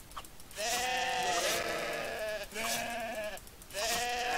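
Sheep in the Outlaws of the Old West video game bleat in long, loud, wavering calls, three in close succession, near and clear with no talk over them.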